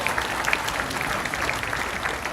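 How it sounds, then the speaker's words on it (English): A crowd applauds at a transit grand opening for the Crosslake Connection, a dense, loud, continuous wash of clapping from many hands with no pauses. "Give her a round of applause"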